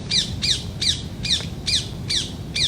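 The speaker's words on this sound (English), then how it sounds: "Parrots." Bird squawks repeat in a steady rhythm, about seven harsh calls spaced roughly evenly at moderate distance, over a low rumbling background.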